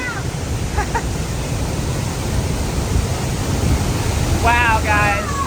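Waterfall at Horseshoe Dam near Phoenix, a loud, continuous broadband roar of rushing water, with brief faint voices rising over it near the end.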